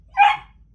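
A single short bark from a 12-week-old female puppy, close and fairly loud, standing alone against near silence.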